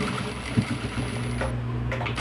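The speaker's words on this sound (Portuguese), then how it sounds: "E vou rebater uma costura aqui." A sewing machine runs steadily as it topstitches a seam on fabric lining, giving a close, continuous mechanical whir with rapid needle ticking and a brief pause near the end.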